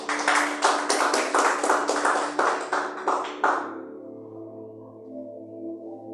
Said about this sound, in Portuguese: Se coloque de pé, palmas para Jesus.